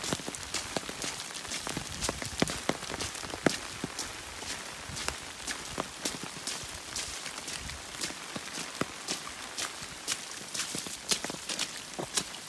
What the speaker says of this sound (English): Now I can film in the rain.